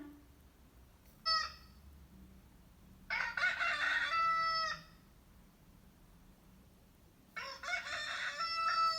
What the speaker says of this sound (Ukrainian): А це голос півня.